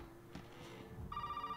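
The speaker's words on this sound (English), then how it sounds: "We're going to ignore that phone call." In the Resident Evil 7 video game, a telephone starts ringing partway through, a faint electronic ring rising over a dim, rumbling background.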